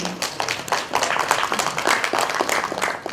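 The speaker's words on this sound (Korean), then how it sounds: "여러분 큰 박수 부탁드립니다" Audience applause for a lecturer at a Korean political forum, a steady patter of many hands clapping at moderate loudness for about three seconds with no speech.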